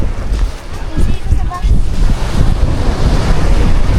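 Strong ocean waves roll and break along a beach in a steady, loud rushing surge, with gusty wind buffeting the microphone and people talking faintly in the background.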